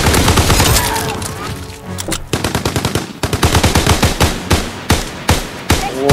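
Rapid automatic gunfire bursts from a WWII video game rattle loudly and continuously, with dense strings of sharp shots, a brief lull, then repeated close bursts.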